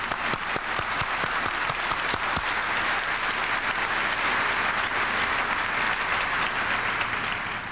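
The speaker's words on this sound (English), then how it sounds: "Let's give them a round of applause." Sustained audience applause fills a high school commencement ceremony from 1997, a dense, steady wash of many hands clapping at close range without pause.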